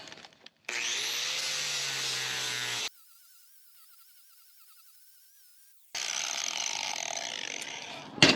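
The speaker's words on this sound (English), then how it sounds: "and now we're gonna sand it" A power sander working on a 316 stainless steel weld for a boat anchor roller, two loud bursts of steady whirring grind with a quiet pause between, the tool spinning down and restarting close by.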